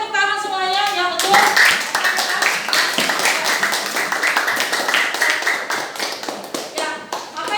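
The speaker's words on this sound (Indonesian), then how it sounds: "Oke, tepuk tangan semuanya." A class of schoolchildren claps their hands together, a dense run of quick, sharp claps that starts after a short spoken lead-in. The clapping continues steadily and close by, with a little child chatter mixed in.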